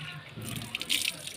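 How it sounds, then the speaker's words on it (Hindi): Cold water gushing from a ground hand pump in a village, a soft running splash with brief brighter spurts, with speech heard faintly nearby. "ठंडा पानी आ रहा"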